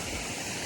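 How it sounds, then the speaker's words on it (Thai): Waterfall in a park in Kashiwazaki, Niigata, Japan, giving a steady, even rush of falling water without pauses in a brief moment of moderate loudness. "โอ้โห น้ำตก"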